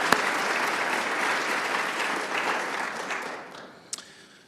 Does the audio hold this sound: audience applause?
yes